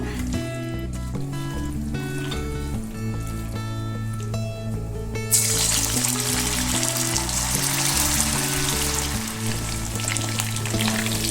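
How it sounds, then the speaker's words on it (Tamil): Chicken 65 frying in oil with garlic, curry leaves and green chilies, a dense close sizzle that swells sharply louder partway through, with some faint clinks early on. "சூப்பராக 65 ஃப்ரை ஆகிட்டுருக்கு."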